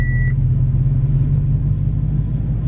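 A car drives slowly around after a headlight restoration, with a steady low engine rumble and road noise close by, and a short electronic beep at the very start.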